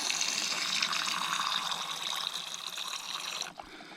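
Water poured steadily into a rock tumbler barrel loaded with stones such as puddingstone and agate, a close, continuous bright splashing trickle that ends abruptly near the finish, with no speech.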